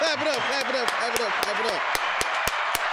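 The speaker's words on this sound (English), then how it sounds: "Y'all clap it up." Rhythmic hand claps ring out at a steady beat under an excited voice speaking over them, on a talk show set during its celebratory 100th episode with a guest.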